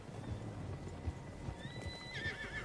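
In the Red Dead Redemption 2 game, several horses clip-clop steadily while one neighs with a rising whinny toward the end, heard without talk.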